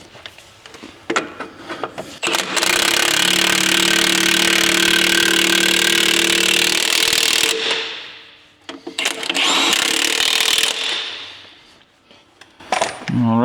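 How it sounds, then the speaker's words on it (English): Three-quarter-inch drive impact wrench working wheel studs on an old Ford LTL9000 truck, a loud sustained rattling whir for several seconds, then shorter bursts that wind down between pulls. "we have our 3/4 drive trusty impact here"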